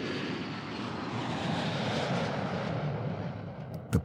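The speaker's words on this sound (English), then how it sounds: "The plane lands in Denpasar after a 24-hour flight from LA" Inside a passenger airliner touching down in Denpasar after a long-haul flight, a broad, steady roar of engines and rushing air fills the cabin, swelling slightly before easing off, with a couple of faint knocks near the end.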